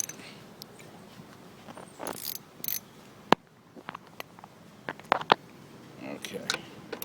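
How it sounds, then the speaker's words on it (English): Socket wrench with a 10 mm extension loosening bolts on a Subaru Outback brake light housing, giving short scattered ratchet clicks and metal ticks at moderate closeness over quiet background. "got our socket wrench with the 10mm extension. I just use this to loosen them up a bit"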